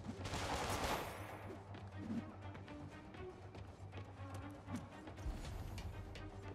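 Gunfire from enemies in Marvel's Spider-Man on PS4, bursts of rapid shots and crashes at moderate distance within a busy game soundscape, loudest at the start and then continuing in scattered volleys.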